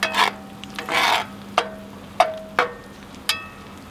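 Eggs and sausage frying together in a skillet as a spatula stirs and scrapes the pan in several short, separate strokes, with soft sizzling and a low steady hum underneath.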